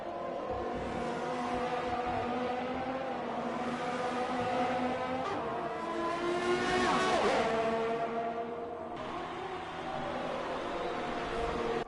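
Racing cars, a Renault and a Haas, in a racing video game run wheel to wheel with a steady, loud layered engine whine throughout and a brief rising and falling pass near the middle.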